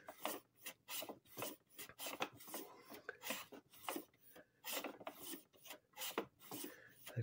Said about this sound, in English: plane the reed all the way until nothing else comes off. These are pretty thin shavings